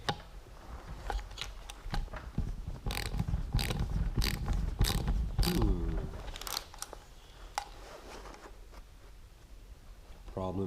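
A ratchet socket wrench clicks in quick bursts while working an Allen bolt on a motorcycle ECM mount, close and sharp, with someone talking quietly between the ratcheting strokes.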